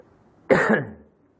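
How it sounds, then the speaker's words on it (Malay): One sharp, close cough rings out alone in a quiet mosque, a brief rough burst that trails off quickly. "Batuk."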